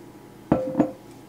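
Two small glass jars clink and knock against each other, two short close taps a quarter second apart in a quiet kitchen, with no talking.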